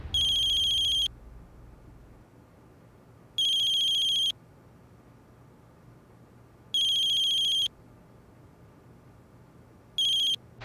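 A mobile phone ringtone rings in loud bursts of a bright electronic melody, four repeats spaced a few seconds apart with quiet gaps between, close and alone with no talking.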